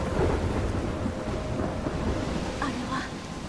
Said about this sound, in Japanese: すごい嵐。